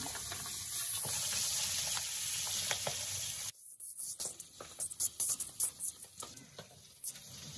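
Pabda fish fry in hot oil in a pan, giving a loud continuous sizzle. After more fish are added partway through, it breaks into crackling bursts and stirring clatter, with no talking.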